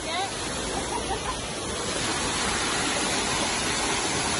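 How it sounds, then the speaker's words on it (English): An artificial waterfall on a pirate-themed mini golf course pours in a loud, constant roar that fills the scene from start to finish, close by and unbroken. "Excuse the noise of the waterfall."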